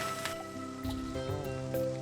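Steady rain falling as a soft constant wash under a light musical score, no voices present.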